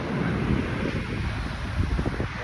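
An outdoor breeze gusts steadily across the microphone, a constant broadband rush with low rumbling buffets throughout, loud and close, with no talking.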